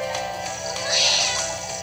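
A kitten meows in the trailer for The Adventures of Milo and Otis, a single drawn-out cry that rises and swells in the middle, heard over a bed of soft music.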